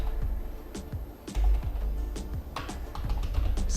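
Text being typed on a computer keyboard, a close sequence of light, irregular key clicks with a few heavier presses, steady and alone without talking.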